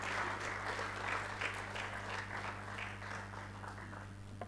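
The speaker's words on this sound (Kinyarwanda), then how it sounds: "Reka twongere Imana amashyi ku ijambo ryiza n'impanuro umushumba Antoine Rutayisire atug" A crowd at a prayer breakfast for media, sport, arts and entertainment leaders applauds steadily, with dense, continuous clapping running throughout over a low hum.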